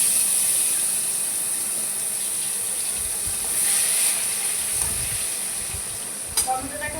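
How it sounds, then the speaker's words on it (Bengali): Tomatoes hit hot oil tempered with black cumin (kalonji) and sizzle in a steady, bright hiss that runs throughout, with a faint clink near the end. "ফোড়নে কালো জিরা দিয়ে দিলাম, তারপর টমেটোগুলোকে দিয়ে দিলাম"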